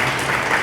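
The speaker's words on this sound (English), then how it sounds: "Will you give them a round of applause?" A brief burst of applause from an audience at an eighth grade promotion ceremony, a dense wash of clapping lasting under a second.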